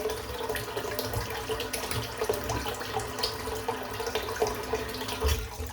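Tap water runs into a shaving bowl in a sink, a steady close splashing and trickling that goes on without a break, with no one speaking.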